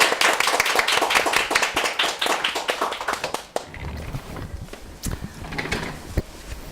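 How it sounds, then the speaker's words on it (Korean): A studio audience at a televised book talk show claps in a dense, lively burst for a few seconds, then the applause falls off to scattered, sparse claps and small shuffling sounds. "큰 박수로 부탁드립니다."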